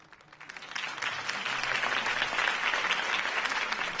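A crowd's applause in the video game Batman: The Telltale Series after a campaign speech builds quickly from a few claps into a sustained, even roar of clapping that holds to the end.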